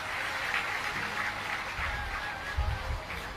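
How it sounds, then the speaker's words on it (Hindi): An audience at a Shiv Mahapuran religious discourse welcomes a guest with soft, steady applause that sounds somewhat distant, with a low background hum beneath the clapping. "बहुत तालियों के द्वारा स्वागत करें"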